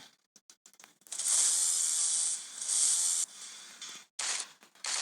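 A chainsaw in the video game Into The Dead 2 revs in loud bursts, buzzing high and harsh for a couple of seconds, dropping, then roaring again after brief clicks and pauses.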